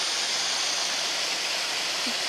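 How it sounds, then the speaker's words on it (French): A small mountain waterfall in the Hautes-Pyrénées pours in a constant, dense hiss of falling water, loud and close, with no voices. "Petite cascade en fond."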